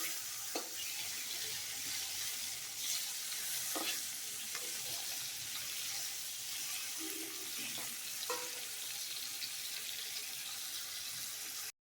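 Katla fish pieces fry in a pan over low heat, giving a continuous close sizzle punctuated by occasional scrapes and taps from turning the fish, with no talking.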